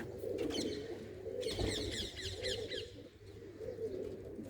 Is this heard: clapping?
no